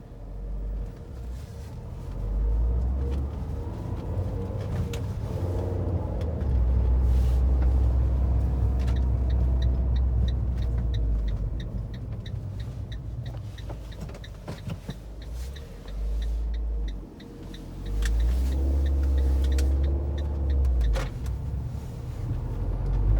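Road traffic driving along one-way roads through the downtown of a small county seat in McMinn County, with engines rumbling steadily as vehicles pass, swelling and fading without a break.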